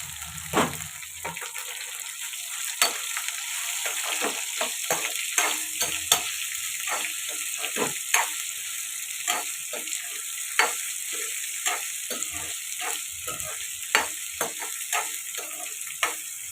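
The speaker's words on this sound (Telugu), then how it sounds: "ఇవి బాగా ఆయిల్లో ఫ్రై అవ్వాలండి" Cut okra pieces fry in hot oil with a close, continuous sizzle, punctuated by frequent sharp scrapes and taps as they are stirred, with no talking.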